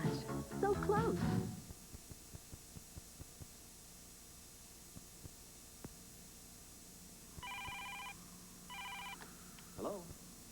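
Telephone ringing in a TV advertisement for a phone with one-touch redial and call answering, heard as two short electronic ring bursts partway through, following music and a faint ticking background.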